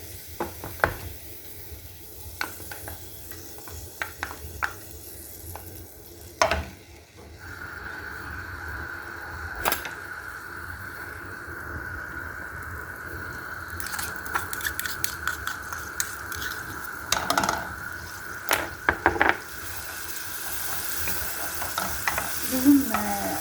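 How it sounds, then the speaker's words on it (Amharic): Garlic sizzles in table butter in a frying pan, a steady soft frying hiss that swells after a few seconds, broken by occasional clinks and stirring scrapes of a utensil. "እዚህ ጋር የገበታ ቅቤ አድርጌያለሁ። ነጭ ሽንኩርት ትንሽ እጨምራለሁ።"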